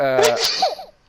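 A single sharp human sneeze, close and loud, followed by a short breathy laugh-like tail.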